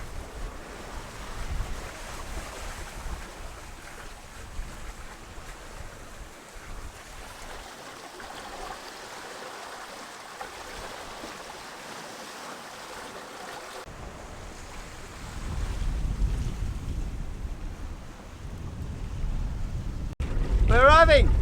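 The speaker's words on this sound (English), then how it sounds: "That was an awesome sail. Fast, no damage, no engine." A sailboat moves under wind alone along the Australian coast with no engine running, as water rushes and waves wash against the hull beneath constant wind buffeting that swells louder near the end, with speech now and then.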